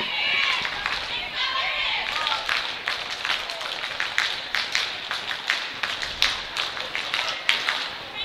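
Eagle cheerleaders at a girls' basketball game perform a cheer routine, rhythmic claps and stomps rising over a noisy gym crowd, with shouting voices throughout.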